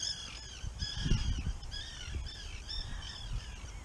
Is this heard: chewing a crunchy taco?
no